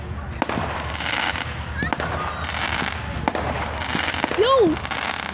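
Fireworks exploding outdoors during an extended display, scattered sharp bangs over a continuous crackle and rumble, with a rising whistling shell near the end and voices in the background.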